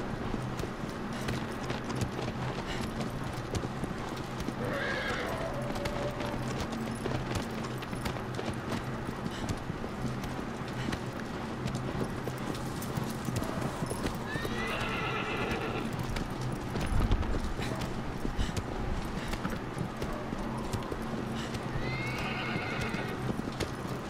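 A horse gallops steadily in the game Shadow of the Colossus Remastered, its hooves drumming a fast continuous rhythm while it neighs loudly three times, whinnies rising above the pounding run.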